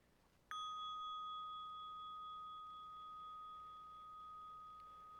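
A single bell rung at an interfaith prayer gathering strikes once with a clear, pure ding that rings on and fades slowly over several seconds in a quiet room.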